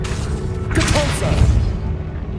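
A Depulso force spell cast in the game Hogwarts Legacy, a sustained whooshing, booming burst that swells near the middle and fades over a steady low rumble of game ambience.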